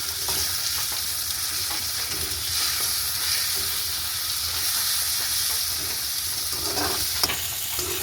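Tomatoes being stirred in a frying pan as they cook down and soften, giving a steady sizzle and frying hiss with soft scraping stirs throughout, close and continuous, no talking.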